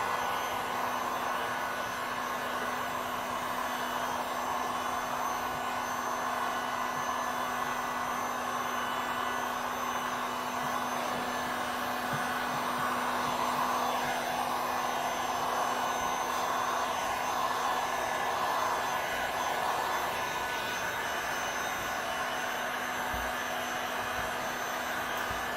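A heat gun shrinking vinyl wrap on a 2017 Ford Mustang blows a steady, even whoosh with a faint hum, continuous and close for the whole stretch.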